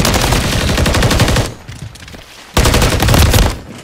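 Rapid automatic gunfire from hip firing in Modern Warfare 3, loud and close, with a sustained burst, a short pause, then a second burst before cutting off.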